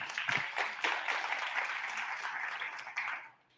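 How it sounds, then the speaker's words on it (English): Audience applause at a science fair keynote, a fairly faint, distant wash of clapping that holds steady for a few seconds and then fades out. "Everyone give Destiny a round of applause again."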